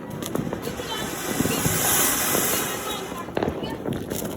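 Diwali firecrackers such as a fountain-type anar burst outdoors during a family celebration in Jammu, giving sharp cracks and a sustained spraying hiss, with a few louder pops and voices talking nearby.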